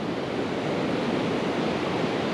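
Ocean surf breaks continuously on the Assateague Island beach in Maryland over sandbars during an incoming tide, a steady, loud wash of roaring waves with no voices.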